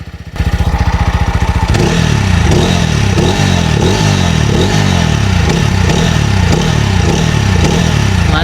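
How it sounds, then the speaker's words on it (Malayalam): A TVS Apache RTR 200 motorcycle with a bassy exhaust fires up and runs loud and close, holding a deep, throbbing rumble through a series of rhythmic revs, with no talking. "നല്ല ബേസി ആ ലോ ആൻഡ് ഗ്രണ്ട് ഉള്ള ഒരു എക്സോസ്റ്റ് കൊട്ടാണ് കൊടുത്തിരിക്കുന്നത്"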